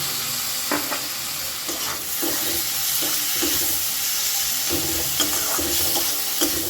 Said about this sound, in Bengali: এবার এটাকে ভালো করে কষিয়ে নিলাম সব কিছু মিশিয়ে নেওয়ার পর দিয়ে দিচ্ছি কুচো করে রাখা টমেটো